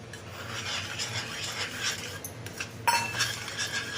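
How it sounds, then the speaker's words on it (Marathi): Rice flour being stirred into boiling water in a pot, with close rasping, scraping strokes and a light metallic clink, no talking. "पाणी उकळले आपण आता ह्याच्यात पीठ घालून घ्यायचं आहे"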